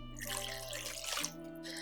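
Water pours steadily from a measuring cup into a crock-pot for chicken tortilla soup, a continuous splashing trickle that stays even and close throughout.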